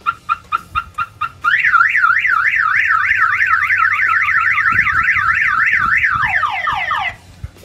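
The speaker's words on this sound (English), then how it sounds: "if somebody opens the hood from the outside, the alarm will fire off" A Jeep Wrangler's Clifford car alarm sounds up close: a run of short beeps, then a loud rapid warbling siren that cycles for several seconds before winding down in falling chirps.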